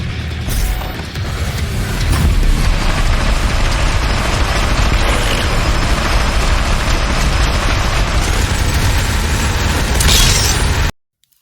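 A mobile turret powered by quad damage fires in Doom, a relentless, dense stream of rapid gunfire and blasts that runs loud and unbroken for about ten seconds before cutting off abruptly.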